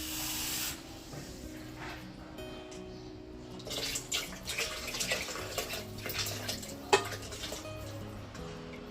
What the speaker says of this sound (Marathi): गरजेप्रमाणे पाणी टाकणार आहे याच्यामध्ये